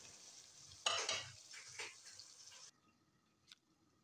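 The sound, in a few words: frying minced meat (keema) in pan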